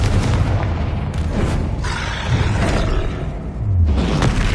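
Confringo fire spell blasts in Hogwarts Legacy combat on PS5, a dense run of loud booming explosive bursts and rumbling impacts packed close together, with no talk.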